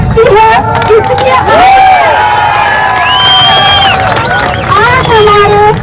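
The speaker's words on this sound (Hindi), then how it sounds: "इस शेरनी के लिए जोरदार तालियों के साथ" A large gathering at a political event in Uttarakhand, with a loud, continuous roar of crowd cheering and shouting that mixes with excited voices, while clapping runs underneath throughout.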